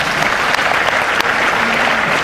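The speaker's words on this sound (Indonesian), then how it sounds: "Oke, tepuk tangan untuk Anda dulu." A seminar audience in a large hall bursts into applause, a dense, loud, continuous wash of many hands clapping at once, with no break.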